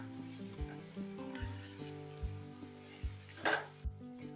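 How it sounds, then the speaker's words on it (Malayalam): Plantain pieces frying in a pan, a soft steady sizzle under repeated gentle knocks of a spoon or spatula against the pan, with no voices. "അപ്പം ഈ നേന്ത്രപ്പഴം നല്ലതുപോലെ നമുക്കൊന്ന് വാട്ടിയെടുക്കാം, ഒരു ലൈറ്റ് ബ്രൗൺ കളർ ആവുന്നത് വരെ"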